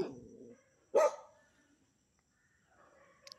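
A single sharp dog bark rings out near the middle of a rambutan farm, preceded by low rumbling noise and followed by quiet with faint background sounds.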